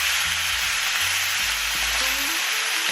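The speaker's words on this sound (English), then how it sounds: "I'm gonna add about a cup of bone broth." Sausage sizzling in a pot on the stove as bone broth is poured in for a one pot orecchiette pasta, a steady close hiss with faint stirring scrapes and no talk.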